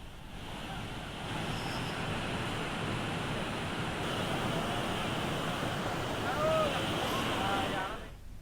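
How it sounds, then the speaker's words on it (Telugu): Floodwater from heavy rain cascades down the hills as a waterfall, a constant broad rushing roar at a distance, steady throughout and fading out at the end. "కొండల్లో నుంచి వరద నీరు జాలువారుతోంది"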